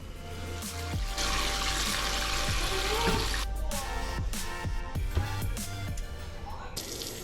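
Water runs steadily from a tap into a bowl of strawberries set to soak in a vegetable wash, a continuous close splashing rush with small knocks and clunks.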